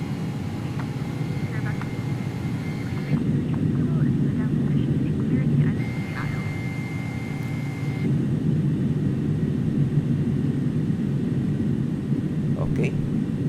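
An airliner climbs steadily in the X-Plane 11 flight simulator, its engines giving off a continuous low cabin drone that swells slightly partway through while a voice talks over it.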